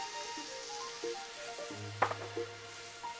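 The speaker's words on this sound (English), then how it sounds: "we're going to reduce the heat and add the wine" Wine poured into a pan of mushroom risotto with butter hisses and sizzles quietly, a steady frying crackle with a few soft clinks of a spoon against the pan.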